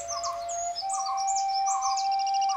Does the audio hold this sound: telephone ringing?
no